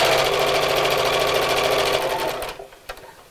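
Sewing machine stitching fabric for a Christmas gift sack, a fast, even rhythmic whirring and clatter running steadily, close and clear, then stopping, followed by a couple of soft clicks.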